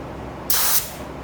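A spray gun lays a short burst of clear coat on small parts of a 1976 Trans Am, a sharp, close hiss lasting about a third of a second over faint background noise.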